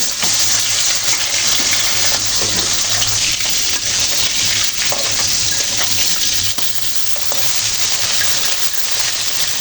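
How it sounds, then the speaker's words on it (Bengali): Pieces of bata fish sizzle steadily in hot oil in a pan for a Bengali fish curry, a loud, dense, continuous crackle heard close up with no voices. "তো তেলগুলো গরম হয়ে যাচ্ছে মাছগুলো অ্যাড এক করে ভেজে নিচ্ছি"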